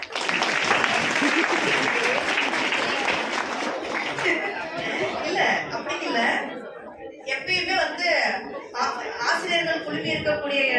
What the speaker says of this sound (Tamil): கிளாப் பண்ணுங்கப்பா